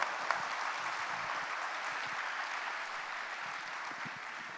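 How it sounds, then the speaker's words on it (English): An audience applauds steadily, a dense wash of clapping that holds throughout at moderate distance. "Please give them a big round of applause."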